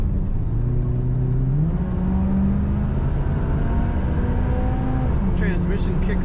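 1978 Chevrolet Camaro accelerating as the automatic transmission kicks down, engine tone rising through distinct gear steps with a steady road rumble, heard from inside the car with a few faint clicks near the end.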